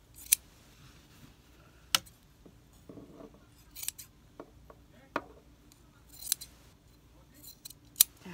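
Sharp scissors snip through the sleeve of a mink fur coat as it is shortened, giving a series of crisp, irregularly spaced cuts close by with quiet pauses between them.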